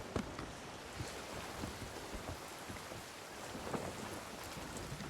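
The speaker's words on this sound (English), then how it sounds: "It's in the storm." Thunderstorm at sea in the video game Sea of Thieves, steady heavy rain hiss with scattered low rumbles and sharp cracks, broad and enveloping, no voices.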